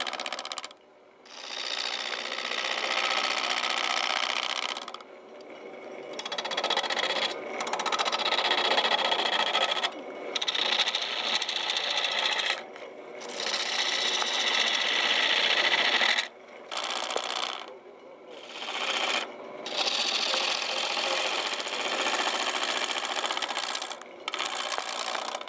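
A wood lathe turns a workpiece at a woodturner's stall in an outdoor market, giving a loud, rough scraping whir as the tool cuts, broken by several short pauses.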